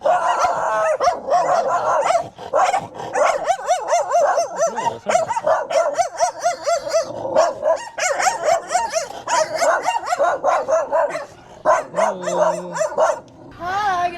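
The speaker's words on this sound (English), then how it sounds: "you have so many dogs here." Several dogs barking excitedly close by, rapid overlapping barks and yips with some whimpering and a howl-like whine, continuous for the whole stretch with a few brief pauses.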